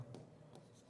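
Writing on a classroom board during a Bengali grammar lesson, a few short scratchy strokes over less than a second, close and fairly quiet, with no talking.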